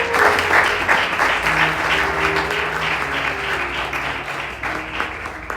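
A church congregation applauds the Lord during a sermon, a loud, steady wash of clapping from many hands that carries on without a break, with a faint murmur of voices underneath.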